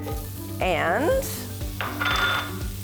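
White onions frying in a hot pan with oil, a steady sizzle under a brief spoken word and a few clinks and bursts of louder crackle as they are stirred.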